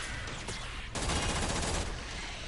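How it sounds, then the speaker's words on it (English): Rapid automatic fire from the Braton rifle in the video game Warframe, a dense burst of repeated shots after a brief quieter lead-in, close and sustained to the end. "let's switch to the Bratton so you can see my"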